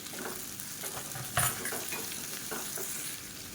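Chopped tomatoes with mint and coriander sautéing in a pan, a steady close sizzle with soft stirring scrapes and one sharper clatter partway through, no voices.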